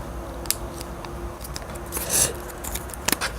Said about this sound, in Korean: 세모로 접어주시고 펼치지 마시고 그대로 또 반을 세모로 접어주세요.